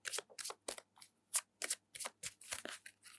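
A tarot deck riffled repeatedly, about a dozen quick papery bursts in steady rhythm, close and fairly quiet, no voices.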